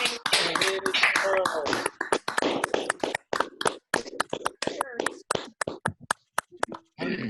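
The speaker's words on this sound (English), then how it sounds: "welcome our newest member, Charles LaFond, with a huge rounds of applause" Scattered applause over a Zoom call for a Rotary Club welcoming its newest member, with sharp isolated claps and taps from several remote participants arriving irregularly and thinning out, alongside brief talk.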